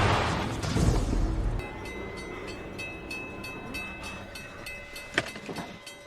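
A train in the film Final Destination (2000) rumbles past with a heavy, noisy roar that fades into rattling cars and a sharp metallic clank near the end.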